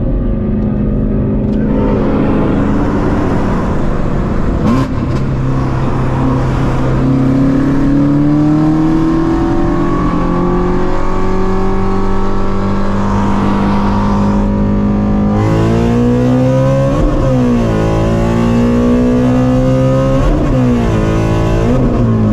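A stock Shelby GT350 Mustang with a slipping clutch revs hard and loud, the engine note climbing and sagging in long sweeps and then in quicker rising pulls, close and continuous with no talk.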